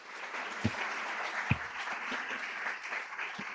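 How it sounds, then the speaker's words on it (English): Steady audience applause for Dr. Kimberly White-Smith at an education event, a dense continuous patter of many hands with a few sharper nearby claps standing out, moderately distant and even in level. "Let's give another round of applause for Dr."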